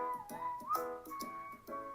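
A cheerful whistled melody from a stock background music track plays alone, with clear sliding whistle notes over a light rhythmic accompaniment, moderately quiet and without speech.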